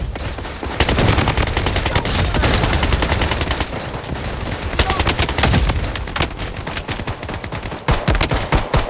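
Rapid automatic gunfire in the mobile shooter game Blood Strike, dense loud bursts of shots with short pauses, continuous throughout.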